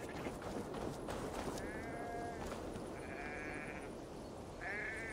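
Sheep in Assassin's Creed Valhalla bleat two or three times in short wavering calls over a busy outdoor game soundscape, with faint footsteps or hoof-like tapping mixed in.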